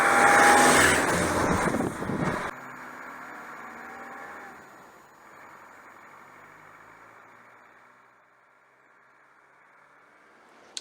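A rebuilt 300 TDI LT230 transfer case filled with 80W90 gear oil runs on a test bench, giving a loud mechanical whine that cuts off abruptly, leaving a fainter steady hum that fades, then a sharp click at the end.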